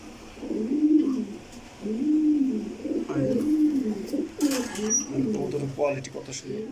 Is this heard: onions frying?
no